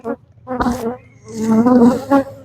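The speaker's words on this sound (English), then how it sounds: "Oh, there's definitely bees in here." Bees buzz loudly and close around a hive, several droning tones rising and falling as insects fly past in waves.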